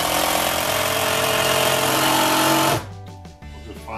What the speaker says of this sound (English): I'll just file off the points.